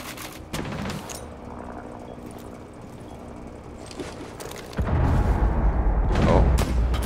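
Gunfire in an online shooter video game, destructive shots that can blow through a barricade in one hit: dense bursts of rapid shots and booms that grow louder and heavier in the final seconds.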